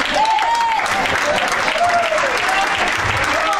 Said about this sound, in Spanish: Si es para Dios ese aplauso